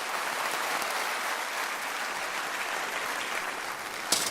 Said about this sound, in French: Patrick, le méchant frère, vous pouvez l'applaudir encore.